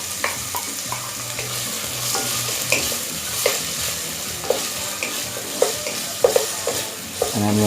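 Onion, garlic, cayenne pepper and celery stir-frying in a pan, a steady close sizzle with a utensil scraping and tapping in irregular strokes, and no voices.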